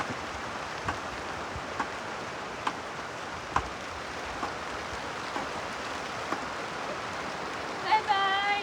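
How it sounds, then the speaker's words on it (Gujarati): Rain falls steadily at a beach as a soft, constant hiss dotted with scattered sharp drop ticks, and a brief voice comes in near the end. "બીચમાં વરસાદ આવે."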